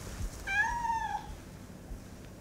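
A cat met on a sidewalk outdoors gives one clear, drawn-out meow, close and distinct over quiet background noise.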